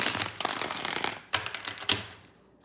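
Tarot cards being shuffled by hand, quick riffling bursts with three distinct snapping flurries, close and fairly quiet.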